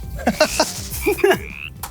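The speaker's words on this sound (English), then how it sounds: "Like frogs are definitely going to ribbit." A Minecraft frog mob gives several short croaking ribbits in a quick irregular series, clear and close with no talking over them.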